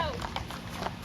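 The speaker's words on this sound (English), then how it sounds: "Can you guys hear the horses?" Horses clip-clop as they are herded across a road near a ranch, hooves sounding as scattered knocks over steady outdoor background noise, with people talking throughout.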